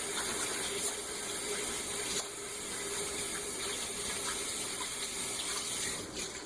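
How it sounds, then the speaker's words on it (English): Tap water runs steadily onto hands being washed at a kitchen sink during homemade chicken strip preparation, a continuous close splashing wash that holds even for several seconds before easing off at the end. "give my hands a big wash here"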